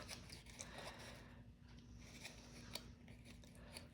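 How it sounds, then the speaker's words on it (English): Scissors snip through a length of string, producing soft, faint cutting clicks and rasps close by over a quiet background. "pull it to about the right length and then cut it"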